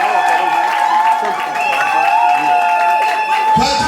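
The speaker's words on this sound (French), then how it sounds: "Est-ce qu'on peut applaudir très fort pour" Wedding guests at a Cameroonian wedding reception applaud and cheer together in a loud, steady crowd roar, mixed with sustained tones that sound like music playing beneath it.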